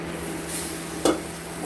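Masala spices for a Bengali egg curry fry in a pan, giving a steady close hiss and sizzle with a brief metallic stirring clink partway through.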